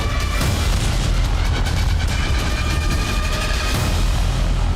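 Explosions during attacks on Kyiv come as loud booming blasts over a constant heavy rumble, with a few sharper cracks rising out of the din and no clear voices.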